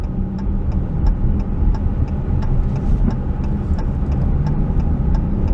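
A 2017 Dodge Challenger SXT accelerates onto an on-ramp at about 40% throttle, its engine a steady mid-pitched drone heard from inside the car with road rumble and a faint regular ticking.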